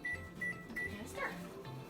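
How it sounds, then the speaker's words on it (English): A microwave oven warming flour tortillas sounds with a repeating high electronic beep, three or four short tones spaced evenly, over a low hum and the background noise of a kitchen. "I'm going to warm them up in the microwave for maybe 20 seconds"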